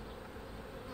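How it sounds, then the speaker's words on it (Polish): Honeybees buzzing at an opened hive frame, a dense close continuous drone of many insects. "tu pszczoły pracują"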